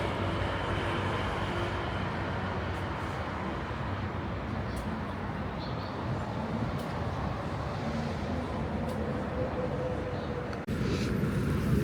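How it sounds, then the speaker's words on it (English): Cars pass along a cold, misty city street in Seoul at night, a steady low rumble of traffic and tyre noise at moderate distance, continuous and fairly quiet with no voices. "only the sound of cars moving through the cold mist"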